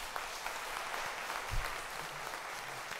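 Steady applause from a congregation fills a Mass during a novena, a dense even wash of clapping that holds from start to finish with no speech.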